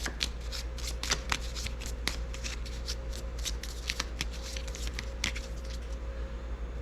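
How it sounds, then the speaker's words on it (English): A deck of game cards for a North Atlantic naval wargame is riffled and shuffled close up, producing a rapid series of crisp flicks and snaps that fade out at the end. "We'll give this a quick little shuffle."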